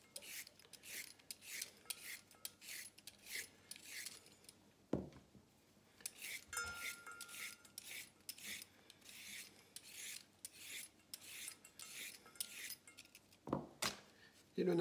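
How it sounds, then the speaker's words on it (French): Carrots for a vegetable macédoine are peeled with a peeler, producing close, rhythmic rasping strokes repeated steadily, broken by a couple of brief knocks. "Éplucher les carottes."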